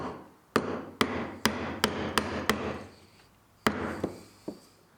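A chisel driven with mallet strikes into a marked line in wood: several sharp, loud knocks in a steady rhythm, a pause, then a few more blows, each with a short ringing decay, no talking.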